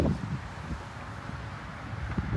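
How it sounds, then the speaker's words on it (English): Strong wind blows outdoors along Highway 192 in Old Town Kissimmee in the evening. It buffets the microphone with low, rumbling gusts that rise and fall, loudest at the start and end, and no one speaks. "It's very windy, so I apologize in advance."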